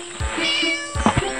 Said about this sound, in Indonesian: Oh, itu dia anak kucingnya. Ada di dalam selokan.